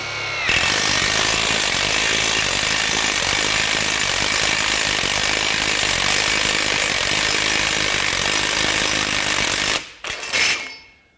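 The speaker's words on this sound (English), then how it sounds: "I've got my impact wrench with the step bit on here." An impact wrench fitted with a step bit drills through 1.5 by 1.5 inch angle iron, a loud continuous grinding, hammering whine that runs steadily for nearly ten seconds before cutting off with a brief rattle.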